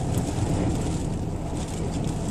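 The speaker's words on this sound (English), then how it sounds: "and very windy" Strong wind roars during a brief hailstorm on a road in Jutland, Denmark, a steady, dense broadband rush that stays loud and unbroken throughout with no voices.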